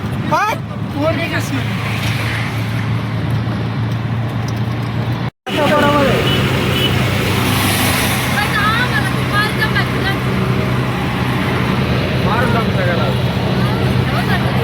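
Auto rickshaw ride on a city road after a hospital visit, a loud steady engine drone and road rumble continuing throughout with a brief cut near the middle, while people talk over it.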